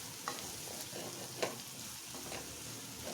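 Egg fried rice frying in oil in a pan gives a steady, moderately quiet sizzle, with a few brief clicks and scrapes from stirring.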